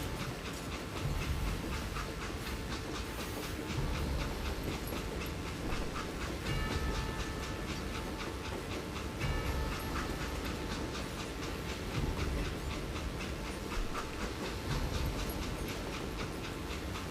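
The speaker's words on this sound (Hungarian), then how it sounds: "Távolodik a vonat." A steam-era train in the Western shooter game Call of Juarez: Gunslinger rumbles and clatters steadily with rhythmic clickety-clack and hissing, a dense, continuous roar with no talk over it.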